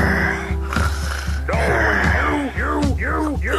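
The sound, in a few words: snoring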